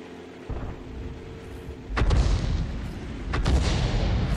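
Heavy booms of an M12 self-propelled artillery gun firing in an Arctic-map tank game, two loud blasts about a second and a half apart, each trailing a rumbling roar over a low steady engine drone.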